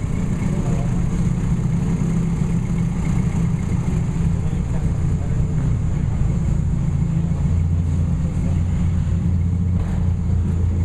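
A 550cc car engine idling roughly at a dyno shop, a loud continuous low rumble that holds steady throughout with no clear speech.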